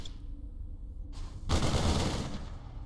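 Marines trade fire with a Stalker in StarCraft II: a faint hiss, then a sudden loud burst of rapid gunfire crackle that holds steady to the end.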